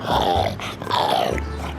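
A dog with an elongated soft palate snorts and snuffles in rough, wet bursts, two breathy grunting surges close up with a low rumbling tone beneath.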